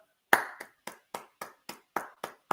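A single person claps hands about nine times in a steady, fairly quick rhythm, each clap crisp and close in a quiet room.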